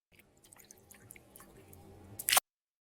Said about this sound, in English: The last two things that we have that come in is this drippy sprite